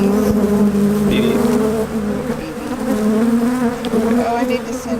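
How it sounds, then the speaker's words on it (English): Honey bees buzz steadily and close during a spring beehive inspection, a dense continuous drone with a few brief louder passes near the microphone. "bees."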